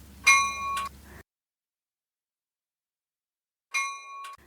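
Two separate bright metallic dings, like a bell or chime struck for a count, each ringing briefly and then cut off, with a long silence between them.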